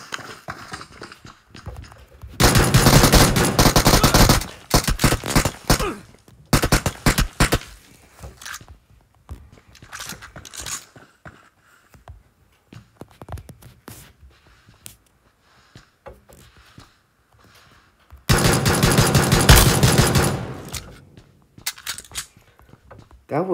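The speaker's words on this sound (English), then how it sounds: "That was really fast fire, though." Rapid gunfire from a video game, with two long dense bursts of fast shots early and near the end and scattered shorter shots between, loud and close with no talk over it.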